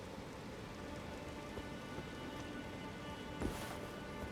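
Steady rain falls in the fantasy video game Elden Ring, a soft continuous hiss of drops spread evenly throughout, faint and unbroken, with no voices.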